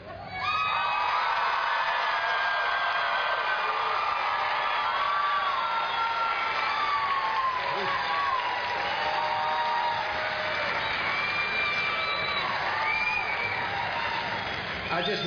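A 2007 Cleveland State University graduation ceremony crowd cheers, whoops and applauds continuously in a large hall, a loud, sustained wash of shouts and clapping with individual yells rising above it.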